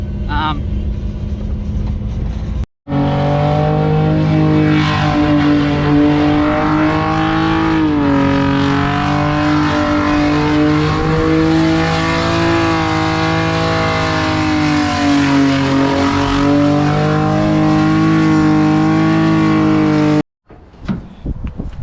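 Cars rev at a burnout pad during a skids test-and-tune session, a loud, sustained engine roar that holds steady for around seventeen seconds and then cuts off abruptly, with brief talk at either end.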